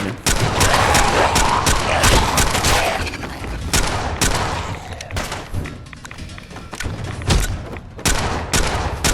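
Heavy-recoil gun in Fallout 4 fires in a rapid fusillade of loud, booming shots with thudding impacts, continuous across the stretch with brief lulls between bursts.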